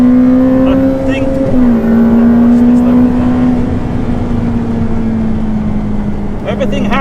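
A Ferrari F8 Tributo accelerating at high speed, its engine note holding a loud sustained drone heard from inside the cabin, with road and wind roar and a voice talking over it.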